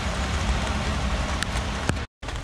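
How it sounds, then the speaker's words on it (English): Heavy rain pouring steadily over an RV park during flooding, a dense close hiss of drops on surfaces with a couple of sharper impacts and a brief cut-out near the end, no talk. "It's been raining every day we've been here."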